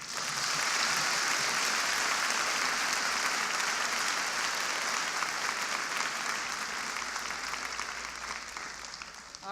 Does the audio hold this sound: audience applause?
yes